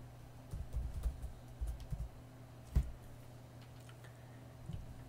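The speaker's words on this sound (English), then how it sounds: "You can do that by simply typing Simulink." Soft keystrokes on a computer keyboard come in a short burst of quick taps, then a single louder click and a few scattered taps, close and quiet over a low hum.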